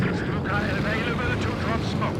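Propeller aircraft in Company of Heroes 2 passing overhead during a 4v4 battle, a steady broad engine drone with wavering tones that holds throughout the short span, with voices talking over it.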